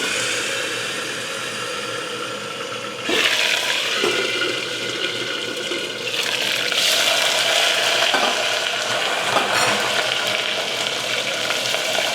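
Cumin seeds and curry leaves sizzle in hot oil on a gas stove over a lowered flame, a steady close frying hiss that grows louder and crackles more after about three seconds.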